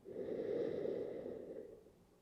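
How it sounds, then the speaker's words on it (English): One slow, deep breath, audibly drawn and released through the nose and mouth, taken during a mobility workout for chest binding; close, soft and alone. "Breathing in, allowing your stomach to fill. Breathing out, allowing it to sink."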